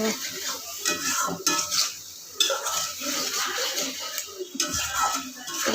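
Turmeric and sesame spices being stirred and sautéed in a cooking pan, close scraping and rubbing of a spoon against metal over a faint sizzle, continuous with brief pauses.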